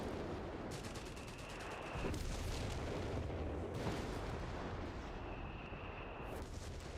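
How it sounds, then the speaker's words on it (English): Artillery fire in Company of Heroes 3: heavy, rumbling barrage shells land in overlapping bursts, a deep continuous roar swelling twice with a thin whine above, the strikes arriving steadily at moderate distance. "But damn, artillery support is coming in."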